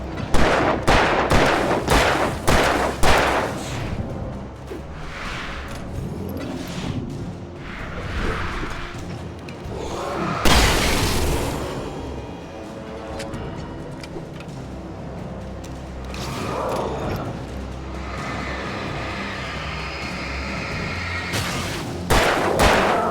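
Rapid pistol gunfire in the video game Alan Wake Remastered, sharp bursts of shots clustered at the start and end, with scattered booms and a rumbling game soundscape in between.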